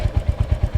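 Kawasaki motorcycle engine in a video game, a close, steady idle with rapid even low thumps about eight times a second, heard alone.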